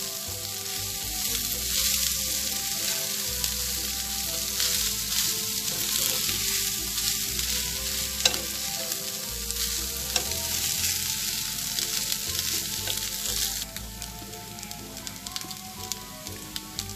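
Rice fries steadily in a hot pan and is stirred throughout, giving a constant close sizzle with scraping and clinking stirring noises and no voices.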